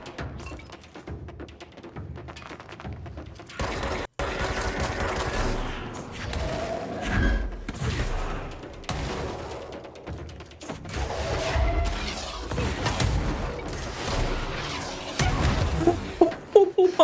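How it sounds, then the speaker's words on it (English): Rocket launcher blasts and explosions from the game Control come in heavy, booming bursts spread across the stretch, mixed with scattered gunfire, and a person talks between and over the blasts. "Ow, the rocket launcher."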